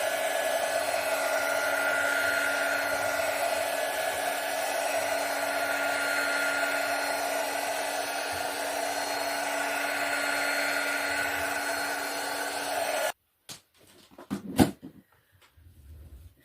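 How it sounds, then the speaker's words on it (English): A heat gun blows steadily on poured acrylic paint to bring up cells, a close, even whooshing hum that holds for about thirteen seconds before it switches off, followed by a few light knocks and handling noises. "now we just need to torch it or hit it with a heat gun."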